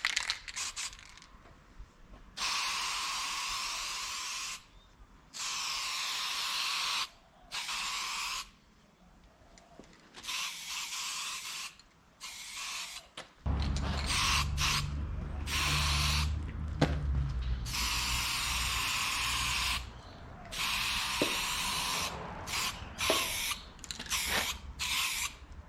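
Etch primer hisses from a spray can onto the rear frame of a 1992 Honda CBR250RR MC22 motorcycle in repeated short bursts with quiet gaps between them. A low rumble joins in partway through, while the spraying continues close by.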